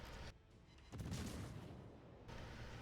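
Naval high-explosive shells fired from the Cleveland cruiser in World of Warships: a loud, heavy salvo boom with a rumbling low roar that sustains for over a second, then trails off into steady ambient battle noise.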